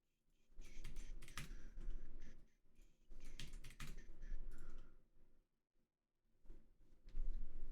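Close, quiet typing on a tenkeyless keyboard fitted with custom switches, irregular bursts of clacking keystrokes broken by short pauses.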